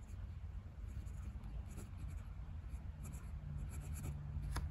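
A Faber-Castell Neo Slim fountain pen with a fine steel nib and blue cartridge ink writes on paper, a quiet, close, continuous scratchy glide with small strokes and pauses.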